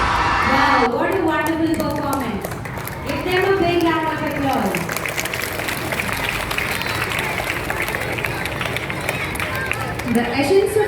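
Loud sustained applause and cheering from a school audience at an investiture ceremony after a performance, opening with the tail of singing before dense clapping and whoops carry on to the end.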